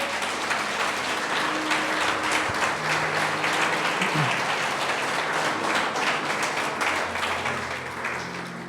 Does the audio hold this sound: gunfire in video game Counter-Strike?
no